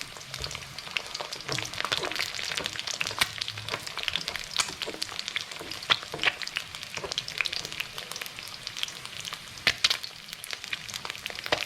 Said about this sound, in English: once the edges start getting a little bit crispy on the outside is just flick a little bit of that oil over it, just to finish off on top